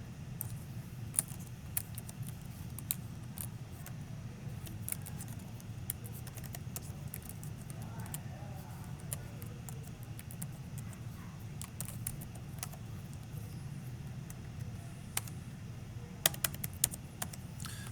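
A calculator's keys are tapped to enter numbers, producing sparse, faint plastic clicks scattered over a low room hum, with no talking.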